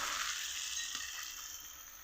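Tomato masala for a rohu fish curry sizzling and frying steadily in a pan, an even bright hiss that fades slightly over two seconds, with no voices.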